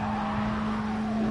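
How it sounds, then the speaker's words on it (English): In Gran Turismo Sport, a car engine holds a loud, steady drone with a constant pitch. It is being revved out at high revs, with no voices over it. "I'm going to try and rev it out now"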